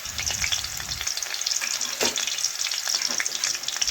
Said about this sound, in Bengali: শুকনো লঙ্কা ভাজা হয়ে গেছে